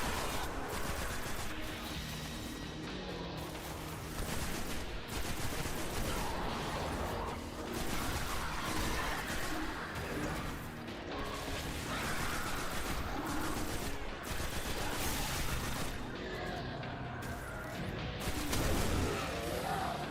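Auto rifle firing in the shooter Destiny: The Taken King, sustained rapid bursts of gunfire mixed with crashes and impacts, dense and continuous for twenty seconds.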